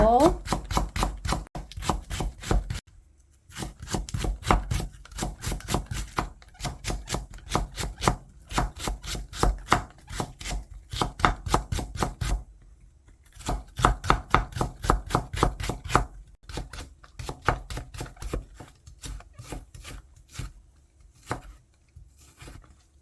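Knife rapidly and finely shredding vegetables on a cutting board for kale kimchi, close and crisp, in quick rhythmic bursts of chopping strokes with short pauses between runs.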